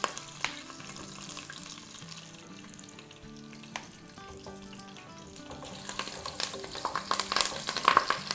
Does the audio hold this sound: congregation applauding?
no